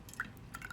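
A gin and blueberry jam cocktail poured into a glass, short faint liquid drips and trickles over a brief moment, quiet and close.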